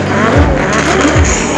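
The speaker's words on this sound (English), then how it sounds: "Cars firing up, no catalytic converters." Loud race cars without catalytic converters fire up at the Pikes Peak hill climb, a raw, deep engine blat with revs rising and falling in short bursts close by.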